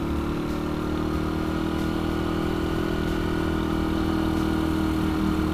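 Honda Win 100 motorcycle engine running steadily with a constant mid-pitched drone and low rumble, loud and close, no talking over it.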